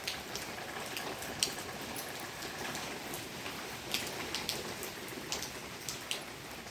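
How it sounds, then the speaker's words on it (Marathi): Light, fine rain falls steadily outdoors over farm fields, a soft continuous patter with scattered louder drops and no voices. "बारीकच पाऊस पडतोय"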